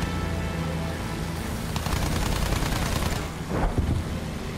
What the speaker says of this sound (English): What am I shooting at? These things.